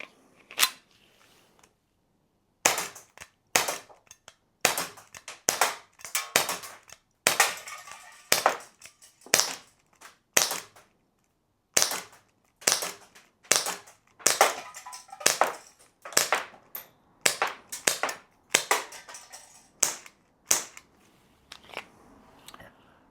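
Glock 17 Gen 5 BB blowback airgun firing on gas, sharp cracking shots in an irregular string, some quick pairs and gaps, loud and close with no talk.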